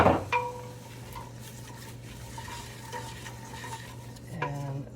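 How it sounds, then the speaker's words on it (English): Cumin and diced mirepoix vegetables are stirred in a soup pot for sausage and kale soup, with a spoon scraping and clinking against the pot over a faint sizzle, close and fairly quiet. "Okay, we're gonna stir all that together."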